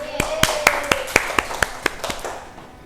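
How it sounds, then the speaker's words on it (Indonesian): A small class at an Arabic language lesson claps in unison, about a dozen sharp, evenly spaced claps in a steady rhythm, with a voice heard faintly at the start. "Ya, tepuk tangan untuk kita semua."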